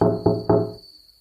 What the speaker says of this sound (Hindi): मैं नॉक करता हूँ।